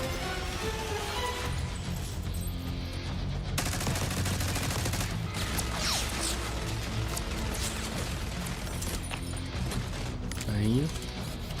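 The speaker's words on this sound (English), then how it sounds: "Stay low until that minigun stops spinning." A minigun fires in a video game trailer: dense, continuous rapid gunfire with clattering impacts throughout, loud and unbroken, under urgent shouted voices.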